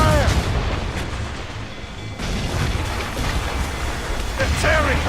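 Ship cannons boom in a naval battle in Assassin's Creed Rogue, heavy rolling blasts layered over crashing sea and wind, with shouted crew voices mixed in throughout.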